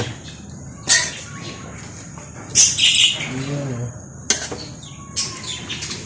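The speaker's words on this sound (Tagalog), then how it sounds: "So sana maingay mga ibon." Sharp bird chirps and tweets pop up intermittently over a quiet outdoor hiss, with a few brief murmurs of voice in between.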